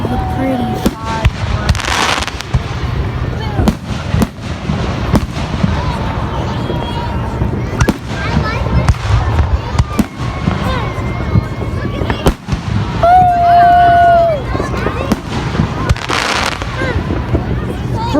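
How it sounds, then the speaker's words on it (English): Fourth of July fireworks bursting in rapid, irregular succession, sharp cracks and booms at varying distances over crowd noise and voices talking, with a whistling rocket rising midway. "Look at all the pretty fireworks."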